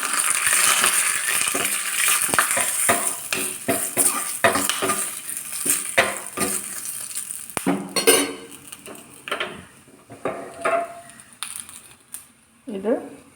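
Curry leaves and dried red chillies spit and crackle as they fry in hot coconut oil for a tempering for mango and jackfruit seed curry, with dense sizzling early on, then scattered metal utensil clinks and scraping.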